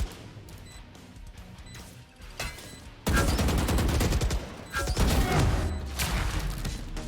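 Gunfire in the shooter video game Valorant: faint distant shots at first, then a loud close burst of rapid shooting and impacts that continues to the end, with no talking.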